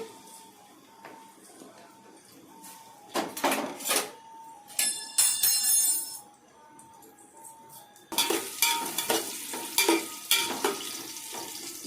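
Onions and green chillies frying in oil in a pan, quiet stretches broken by bursts of loud clattering, metal scraping and crackling sizzle, close and intermittent.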